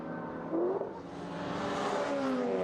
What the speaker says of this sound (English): Let's listen to these cars as well.